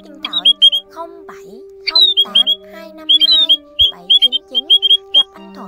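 Áo Già (white-headed) bird call played from a recording for net trapping: repeated sharp squawking and whistled notes in short bursts, loud and close, over a steady electronic hum.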